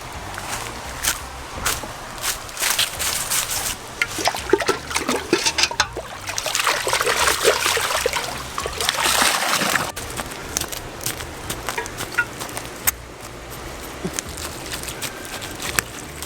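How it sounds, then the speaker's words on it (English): Water washes out a cooking pot outdoors in Jamaica, with steady trickling, splashing and scraping that continues throughout, close and fairly loud, with no talking. "let's wash up the pot a bit."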